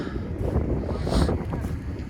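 Wind buffets the microphone in steady low rumbling gusts, with a brief stronger blast in the middle, outdoors and fairly loud, on a cold day at an auction in Long Prairie, Minnesota.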